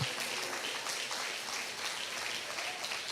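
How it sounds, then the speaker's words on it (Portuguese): Church congregation applauding during a service, an even, steady wash of many hands clapping, somewhat distant and moderately quiet, with no speech over it. "Dê um aplauso ao Senhor."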